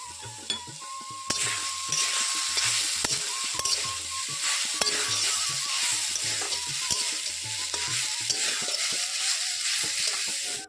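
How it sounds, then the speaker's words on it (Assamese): Grated coconut fries and is stirred in a hot wok, a steady sizzle broken by repeated scraping strokes at a regular rhythm, close and clear with no talking. "কেৰাহী গৰম হৈ গ'ল আৰু এইখিনি মই ভাজি লৈছোঁ"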